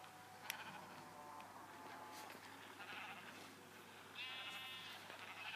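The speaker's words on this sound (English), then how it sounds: "Why is there a dog attacking a sheep?" Sheep in the Minecraft video game give a couple of faint, wavering bleats over quiet game ambience, the clearest one coming near the end.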